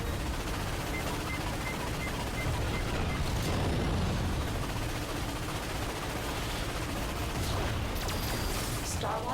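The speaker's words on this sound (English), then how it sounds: "Use the Starwatch ion cannon against those cannons." Cannon and gunfire from the Ratchet and Clank battle in Batalia form a dense, continuous barrage of booms and crackling blasts, loud and unbroken across the whole stretch.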